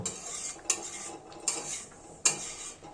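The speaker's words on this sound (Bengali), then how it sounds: "গরম জল দিয়ে দেব সমস্ত কিছু খুব ভালোভাবে নাড়াচাড়া করে নেব" A metal spoon stirs a potato and green pea curry in a pan after hot water is added: three sharp scraping clinks against the pan, spaced unevenly over a faint background hiss, with no talking.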